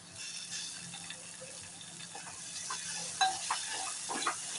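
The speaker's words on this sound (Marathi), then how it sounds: "तेल छान गरम झालं की त्याच्यामध्ये टाकणार आहोत 2 बारीक चिरलेल्या हिरव्या मिरच्या, ठेचलेलं लसूण व्यवस्थित भाजून घ्यायचं आहे तेलामध्ये." Green chillies and crushed garlic frying in hot oil, a soft steady sizzle with light stirring scrapes and a few sharper clinks of the spoon against the pan.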